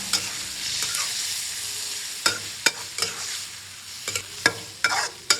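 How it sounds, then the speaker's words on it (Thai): Beef stir-frying in a hot pan for daging goreng, a steady broadband sizzle with a series of sharp scraping clacks from the spatula, loud and close, with no voices. "ผัดเนื้อจนสุกกำลังดีนะคะ"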